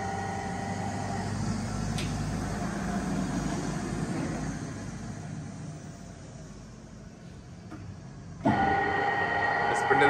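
A Runmaster lathe from Taiwan with a 1000 mm job length runs its spindle, giving a steady mechanical drone and hum under a faint background, then a louder, brighter whir as the speed rises near the end.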